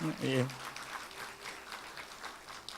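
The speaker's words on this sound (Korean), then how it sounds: "예, 큰 박수로." Congregation applauding during an award presentation at a Sunday morning church service in Ulsan, heard as a faint, steady patter of clapping after a short spoken phrase.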